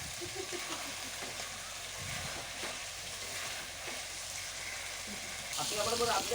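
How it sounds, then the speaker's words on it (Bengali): Goat meat frying with chui jhal, a continuous close sizzle with scraping stirring strokes, swelling into a louder bubbling splash toward the end. "এখন চই ঝালটা দেওয়ার পর আর একটু ভালো করে নেড়ে চেড়ে নিচ্ছে।"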